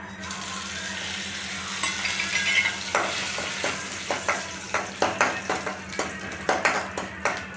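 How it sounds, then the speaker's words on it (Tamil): Fennel seeds, cinnamon and bay leaf sizzling in hot oil as a base for Sunday mutton kulambu, a steady crackling hiss with a run of sharp spoon scrapes and taps growing busier toward the end, no talking. "இப்போ எண்ணெய் நல்லா காஞ்சதுக்கப்புறம் சோம்பு பட்டை பிரிஞ்சலை இதை நம்ம போட்டு தாளிச்சிக்கலாம்"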